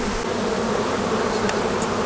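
Honeybees from two late wild swarms being combined into one hive, a loud, close, continuous buzzing drone of a startled colony, with no voices.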